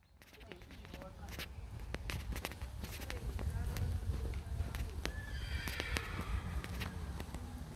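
A big horse neighs loudly while hooves clop and shuffle on the ground nearby, with faint human talk mixed in amid the steady movement noise.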